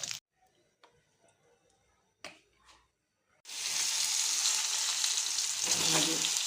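Rohu fish frying in oil: a few sparse ticks and clacks in near silence, then a sudden loud, dense sizzle erupts and holds steady and close to the end.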